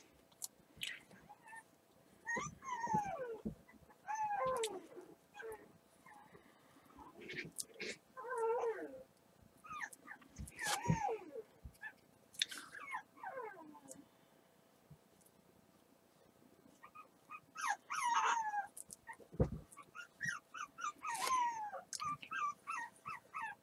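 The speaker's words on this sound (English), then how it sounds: "This puppy is having a fit." A puppy whimpers and whines repeatedly in high, wavering cries, broken into scattered bursts with pauses, fairly close and moderately loud, no talking.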